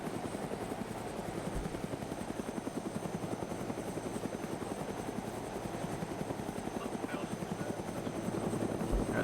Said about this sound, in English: The helicopter's gonna keep coming back in.